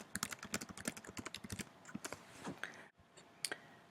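Quick bursts of typing on a computer keyboard, close and crisp, the keys clicking in an uneven rhythm with a brief pause before a final few taps.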